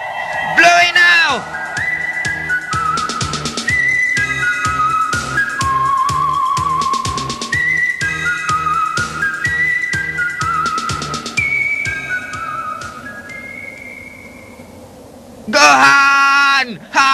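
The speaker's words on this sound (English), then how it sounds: "Quick, blow the whistle!" A whistle blown in an animated Dragon Ball fight scene, playing a long melodic tune of shifting sustained notes over a pulsing backing, with loud voices shouting at the start and end.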